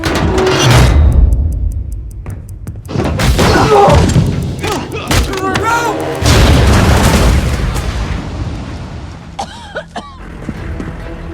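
A loud booming explosion hits in a film action scene, followed by thuds, crashing debris and scattered impacts, with brief snippets of speech mixed in.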